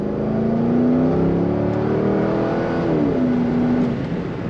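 2012 Chevrolet Corvette Grand Sport 4LT convertible accelerating, heard from inside with a window down: a loud, continuous V8 drone rising steadily in pitch, easing briefly as it shifts, then climbing again.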